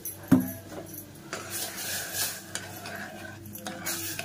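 A spoon stirs sugared rice kheer in a pot, with soft continuous scraping and rubbing, a sharp clink near the start and faint sizzling underneath.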